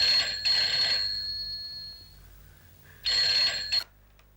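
A telephone rings in two electronic bursts separated by a pause, fairly loud and close, with no talking.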